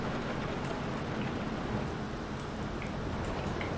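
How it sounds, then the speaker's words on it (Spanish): Steady rain in the submarine game UBOAT, heard as a dense, even hiss of falling water with no breaks, moderately loud and with no voices. "No, está lloviendo, ¿no?"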